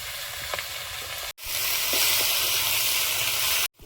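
Spinach dropped into hot oil with crushed garlic and black cumin seed, a loud sharp sizzle that swells into a steady hiss, briefly cut off twice, with faint clinks of a utensil.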